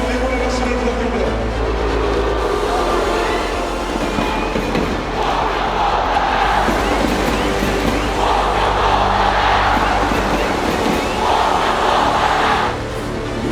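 A large football crowd fills Ulsan's stadium with a steady, loud roar, rising in swells of cheering and chanting that could be applause, continuous throughout with no clear pauses.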